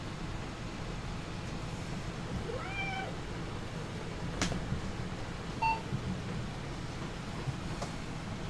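A cat on a printer lets out a single clear meow, moderately close, against a steady low background hum with a few faint electronic beeps afterward.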